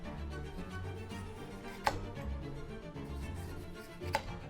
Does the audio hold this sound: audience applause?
no